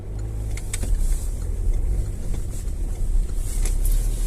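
A car drives along a road on the way to a shop, giving a steady low engine and road hum at moderate level with faint higher whooshes and no speech.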